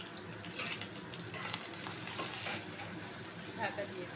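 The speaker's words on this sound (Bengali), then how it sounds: "এর মধ্যে দিয়ে দিচ্ছি পেঁয়াজটা একটু ভালো করে ভাজা হোক" Onion frying in hot oil with spices for a chicken curry gives a steady close sizzle and hiss, with a few brighter crackles and the faint scrape of stirring.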